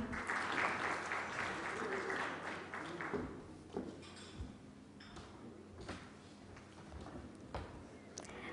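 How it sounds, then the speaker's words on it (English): Applause at an e-governance conference session in India greets the session chair. It starts fairly strong, then thins to scattered claps with a few knocks and thuds as the stage changes over. "A huge round of applause for the session chair"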